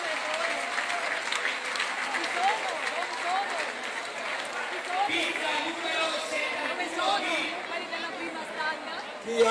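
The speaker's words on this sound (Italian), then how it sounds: "un applauso veramente" At an auction of stanghe during the San Nicola festival, the crowd gives a sustained round of applause close by, thick with chatter and murmuring voices throughout.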